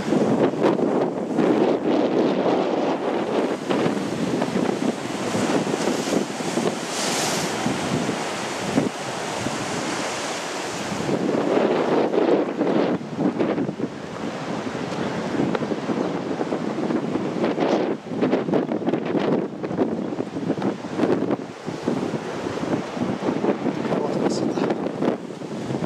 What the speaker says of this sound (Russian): Какой ветер! Чуть тряпку не сдул.